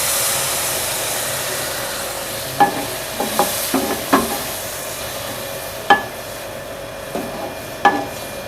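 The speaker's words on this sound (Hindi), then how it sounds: "तो अब हम इसमें डाल देंगे आधा कप दही, जिसको मैंने फेंट लिया।" Whisked yogurt goes into green chilies frying in a pan, a steady background sizzle broken by several sharp stirring clatters and scrapes spread through the middle and end, no voices.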